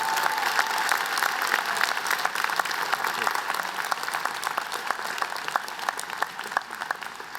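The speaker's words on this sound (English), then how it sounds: "Let's give these folks a really warm round of applause" Warm audience applause at a university commencement ceremony, a broad sustained ovation of many hands clapping steadily throughout, with some talk faintly underneath.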